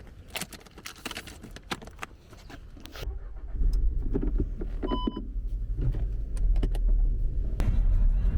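A rental car being handed back and checked over after a trip around Majorca, with short clicks and handling noises up close, then a steady engine hum and rumble that swells and holds to the end, with no talking.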